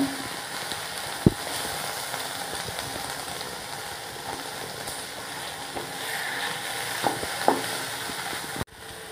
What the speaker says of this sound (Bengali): এইভাবে আমি নাড়াচাড়া করে সবগুলো লাল করে নেব